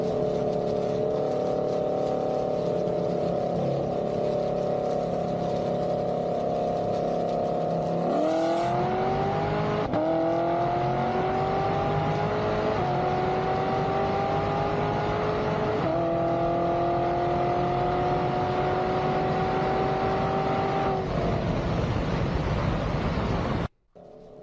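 A BMW M2 drag races a Camaro, engines roaring loud and close as the pitch climbs through several gear changes in stepped rising sweeps, then ends abruptly.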